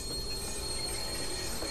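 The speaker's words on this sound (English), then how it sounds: "Southbound train arriving shortly." Train wheels squeal continuously as a train arrives at a station in the Watch Dogs: Bad Blood video game, a steady, high metallic screech with rumble beneath, loud and sustained throughout.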